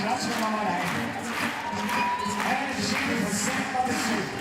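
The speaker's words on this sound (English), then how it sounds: "You can hear them clapping along to the DJ, who's up on our level in the commentary box." At a men's bouldering final in Innsbruck, the crowd's clapping and cheering rumble along with a DJ's music, a fairly dense, rhythmic mass of hands and voices heard through the hall.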